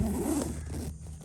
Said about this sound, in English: So you just reach up in here and pull the zipper out